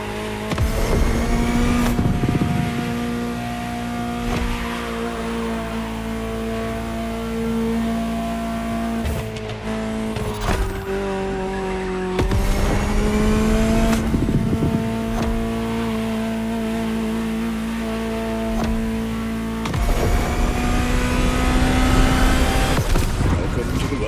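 A Ferrari supercar in the video game The Crew Motorfest, its engine holding steady tones and revving up in several surges as gears shift, with a voice speaking over it.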